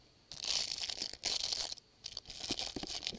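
A chicken-shaped crinkle dog toy is squeezed and handled up close in several quick bursts of crisp, papery crinkling, with short pauses between.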